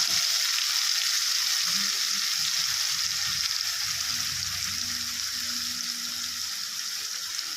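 An onion and tomato masala for chicken curry sautés in a pan with a bright, continuous sizzle, while low clanks and scrapes of stirring sound underneath, and no one speaks.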